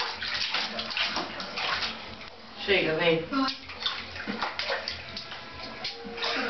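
Water from a bucket is poured over a dog during a bath, splashing and sloshing in uneven bursts close by while people talk throughout.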